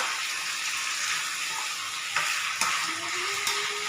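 Chicken curry with potatoes, spices and salt is stirred in a hot pan, a steady loud sizzle under repeated scraping strokes and a few sharp utensil knocks, no speech.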